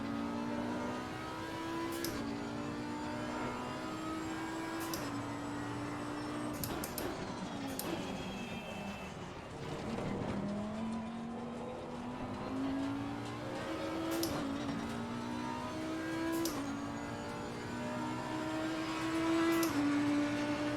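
Race car engine sound from an online racing video game with an Audi, a steady revving drone with shifting pitch and gear changes throughout, plus brief sharp transient bursts, continuous and fairly loud with no talk.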